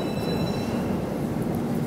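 Metro train running through the Moscow metro, a steady loud rumble with faint high squeals fading early, continuous throughout without talk.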